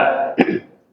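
A single short cough cuts in sharply, close to the mic, amid a brief murmur of speech that trails off into silence.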